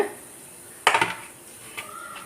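A metal pan is set down on a stovetop with a sharp clattering knock and a brief rattle, followed by a lighter clink, in an otherwise quiet kitchen.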